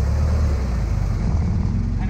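Ford Model T engine revving a little during a hill start, a steady low rumble heard from close by inside the car, with someone talking over it.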